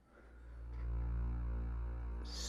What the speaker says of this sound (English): this bass sound is from that Cyberpunk pack, using the Final Cuts preset